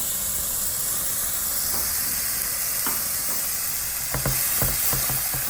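Bacon frying in a pan for beef stroganoff: a steady, loud close sizzle and hiss, with a few clattering stirs and knocks of a utensil toward the end, no talk.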